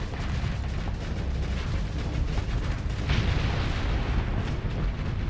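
Continuous booming explosions and weapon blasts from a space battle in the game Starsector, a loud dense rumbling wall of blasts and bursts lasting throughout, with no speech.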